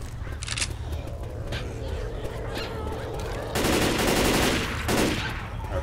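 Rapid gunfire in the zombie shooter Left 4 Dead 2, Dark Carnival campaign, a steady clatter of shots running through the whole stretch and thickening into denser bursts midway, with frantic game noise around it.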